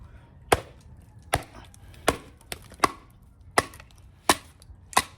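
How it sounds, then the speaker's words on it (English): A Bowie-style hunting knife batoned through knotted wood: eight sharp, distinct chopping strikes spaced roughly half a second to a second apart, close and clear with no talk. "See if I can get through this with the baton. By batoning it, I should say."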